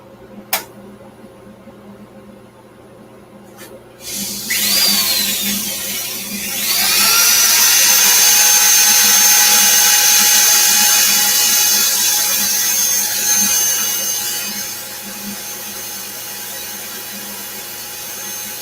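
Steady high whine of a wood lathe spinning a face grain woodturning piece as sandpaper is pressed against it, rising into a loud continuous friction hiss that holds for several seconds before easing slightly.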